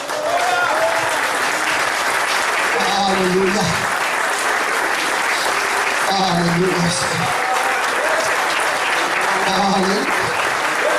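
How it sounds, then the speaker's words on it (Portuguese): A church congregation applauds during a sermon, sustained clapping filling the room while a preacher's voice repeatedly calls out over it. "Tu pode aplaudir o Senhor?"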